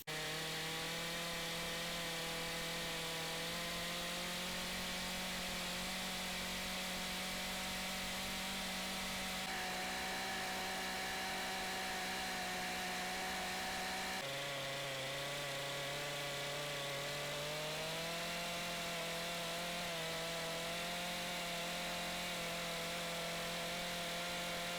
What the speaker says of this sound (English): that will give me a guide to start my rip with the chainsaw